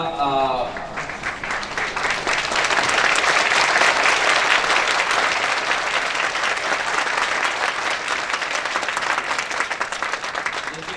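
A training-session audience claps together in a sustained burst of applause for several seconds, dense and steady, rising slightly and holding.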